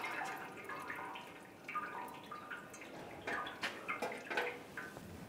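Engine coolant draining from a disconnected radiator hose on a 2011-2018 Ram 1500, heard as a soft, irregular trickle and drip that swells with splashy bursts toward the end, fairly close and alone.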